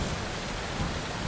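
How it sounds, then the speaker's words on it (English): A thunderstorm at sea around a docked cruise ship brings a dense, loud, unbroken roar of heavy rain with a low thunder rumble underneath, steady for the whole moment. "Thunder and lightning are pretty intense out here"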